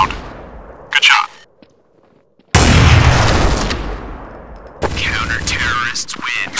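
Counter-Strike: Source gunfire on a snowy map: a short burst of shots, a pause of near silence, then a loud sustained blast of fire with echo, followed by another run of rapid shots, with a voice speaking briefly.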